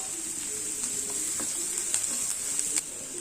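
Curry leaves hit hot oil in a pan of cooking onions and spices for a jackfruit-seed masala fry, giving a steady, hissing sizzle with a few sharp crackles and light stirring scrapes.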